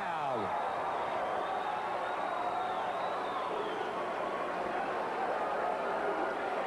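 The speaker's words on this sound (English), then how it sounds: "And the crowd goes wild." A wrestling crowd at a 1985 NWA Continental Wrestling event cheers wildly as a wrestler tags in, making a dense, steady roar of many voices that stays loud and unbroken throughout.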